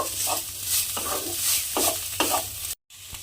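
Cauliflower fries in a pan with a continuous close sizzle, punctuated by several rhythmic scraping stirs of a spatula at roughly even intervals, then a short break before frying continues.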